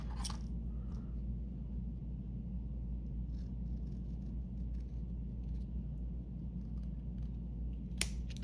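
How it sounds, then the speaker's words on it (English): Scissors cut through material in faint, scattered snips over a steady low background rumble, with no talking. "So now let me cut that side."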